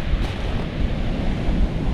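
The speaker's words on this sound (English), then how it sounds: "Got waves coming over me, behind me, attacking me." Sea waves surge and wash continuously on Silecroft Beach in Cumbria during beach casting, a loud, dense roar mixed with heavy wind buffeting the microphone.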